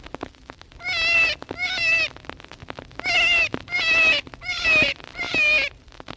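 Recorded distress cries of a high-pitched, clear-voiced cottontail rabbit come as six loud, close squeals, spaced in two pairs and then a group of four, each rising and falling with a pure, ringing tone.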